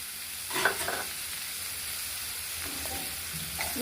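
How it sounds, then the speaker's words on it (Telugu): Onion pieces sizzle and fry in a pan with tomatoes and chillies, a steady frying hiss with brief stirring scrapes near the start and end, and no talking. "ఒక పెద్ద ఉల్లిపాయ ముక్కలు వేసుకుంటున్నాను ఇది కూడా లైట్గా కొంచెం మగ్గించుకోవాలా"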